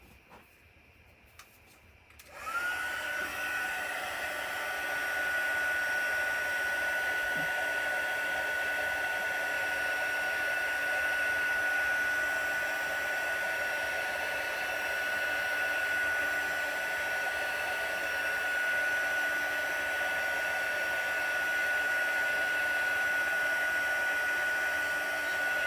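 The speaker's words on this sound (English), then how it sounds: "I'm just going to hit this with the heat gun a little bit to make sure it's dry." A heat gun switches on after a short quiet start and blows a steady, loud, hissing airflow with a constant whine, drying Stampin' Up designer series paper for a salvaged-birds card. It runs alone and unbroken.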